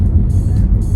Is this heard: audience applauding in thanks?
no